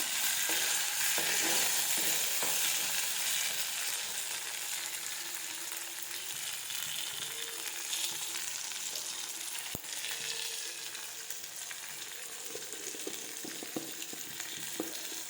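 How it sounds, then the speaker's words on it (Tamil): Onions fry and sizzle in a pan for a potato and egg gravy, a steady close hiss that runs throughout and slowly softens, with a sharp click partway through. "வெங்காயம் நல்லா வதங்கி வரைக்கும்"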